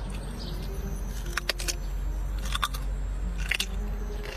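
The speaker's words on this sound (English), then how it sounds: "Do you hear that crunch?" Crunchy bites and chewing of raw carrots dipped in mustard, three or four short crisp crunches spaced a second apart, close and fairly quiet over a low steady background hum.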